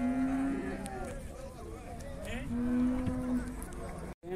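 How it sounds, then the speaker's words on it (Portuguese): Cattle moo loudly at a livestock fair in Cachoeirinha, Pernambuco, two long low bellows close by, with crowd murmur and background bustle throughout. "A vaca braba."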